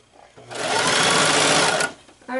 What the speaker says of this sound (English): I'm just going to go down using the lines on my sewing machine